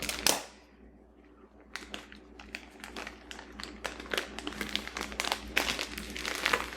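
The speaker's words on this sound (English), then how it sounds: "And then you just empty that rice right into the tube sock." Rice is emptied from a bag into a tube sock, starting with a crinkle of plastic, then a dense, continuous pattering of grains that builds toward the end, close and fairly loud.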